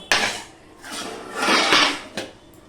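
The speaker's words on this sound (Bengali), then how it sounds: "আমি হাতার সাহায্যে এইভাবে ঘেটে দেব আর ঢাকা দিয়ে হতে দেব" A ladle scrapes and clanks against a pot while boiled taro leaves and stalks are stirred, with a sharp knock at the start, a swelling scraping stir, and another clack near the end.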